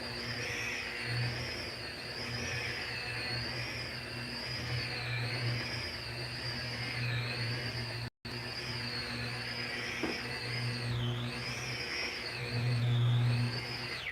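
A car polishing buffer runs at low speed with its trigger only partly pulled: a steady, wavering motor whine with a faint rising and falling pitch, continuous apart from a momentary cut, and a hum beneath it.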